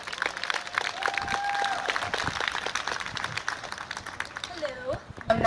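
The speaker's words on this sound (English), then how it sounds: "Please give her a warm round of applause." An audience applauds to welcome a female performer on stage, with dense, steady clapping throughout and a few whoops and voices over it before it thins out at the end.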